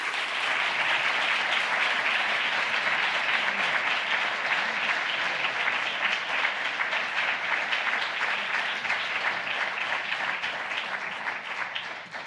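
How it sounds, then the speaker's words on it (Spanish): Sustained, dense applause from an audience at the close of a book talk and Q&A session on creativity and artificial intelligence, steady and loud for the whole stretch, with no voices over it. "Un fuerte aplauso, por favor."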